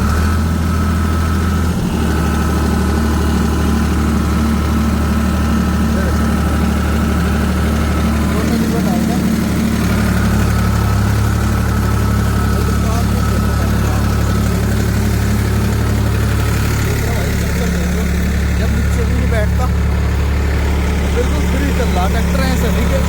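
Farmtrac 45 Powermaxx tractor engine held at 1500 RPM with both levers down, a loud, close, steady diesel drone that shifts pitch slightly partway through, with someone talking over it.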